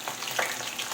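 Tilapia fries in a hot pan, a close, steady sizzle and crackle with small pops and no voices.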